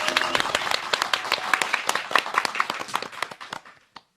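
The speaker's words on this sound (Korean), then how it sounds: "박수로." A studio audience at a radio lecture recording claps in a burst of applause, many sharp individual claps thinning out over a few seconds before stopping with a last isolated clap.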